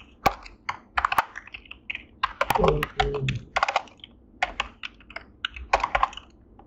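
Keys clatter in bursts on a computer keyboard as C code is typed for a non-recursive binary conversion function, with a voice speaking between and over the clicking.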